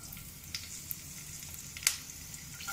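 Green chili, ginger and garlic fry lightly in oil over a slightly raised flame, a soft steady sizzle with a few faint crackles and one sharper pop near the middle.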